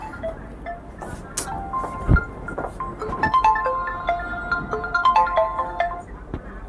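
A phone ringtone plays a repeating melodic pattern, fairly close and loud, with faint background rustle and no talking.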